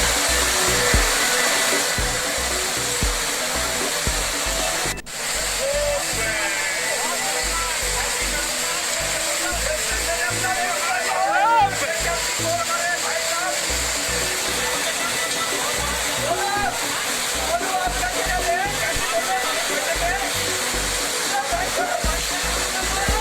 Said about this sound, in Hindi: आप देख सकते हैं कि किस कदर ये झरना तेजी से बह रहा है।